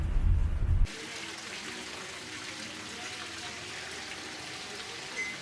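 Cool rain falls during a car ride to lunch in Yogyakarta, Indonesia, with a steady soft patter and hiss after a brief heavier rumble at the start.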